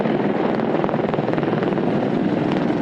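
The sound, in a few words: AH-64 Apache helicopters flying in formation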